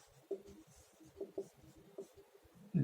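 Chalk or marker taps and scratches across a classroom board in short, irregular strokes, fairly quiet, with a louder knock at the very end.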